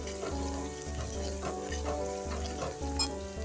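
Onion fries on a low gas flame in hot oil with asafoetida, a steady close sizzle with stirring scrapes, while a low rhythmic hum pulses underneath.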